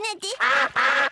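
Cartoon ducks from Peppa Pig quack in a quick run of three or four loud, nasal, close calls, each clearly separated.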